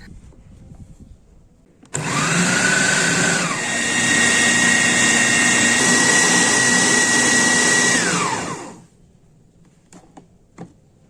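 An electric food processor or chopper grinding milkfish flesh with egg, salt, pepper, stock powder and sugar into a paste, a loud steady whirring motor that starts suddenly, runs about seven seconds with a slight pitch shift, then stops.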